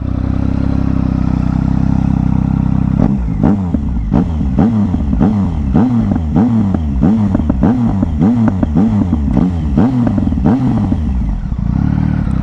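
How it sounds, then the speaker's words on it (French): A Triumph Speed Triple 1050 R three-cylinder motorcycle with a catalytic converter cranks over and fires up, settling into a loud, close, lumpy idle with rhythmic pulsing revs and a faint whine, no voices. "Le 3 cylindres, tu as ce léger sifflement que tu as chez Triumph"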